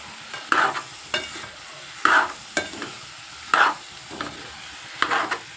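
Bitter gourd curry being stirred in a pan, a spoon scraping through it in a steady rhythm of about six close strokes with a light sizzle underneath.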